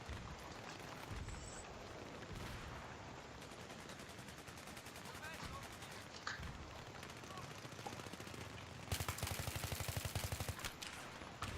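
Gunfire from the video game Battlefield 3 on the Canals team deathmatch map, rapid bursts of automatic fire and shots dense throughout, growing louder near the end, with someone talking over the action.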